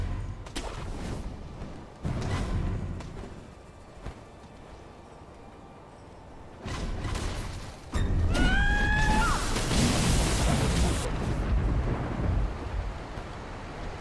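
Thunder cracks and rolls during a lightning storm in Sekiro: Shadows Die Twice, sounding as loud booming rumbles that swell from about eight seconds on, with earlier muffled thuds.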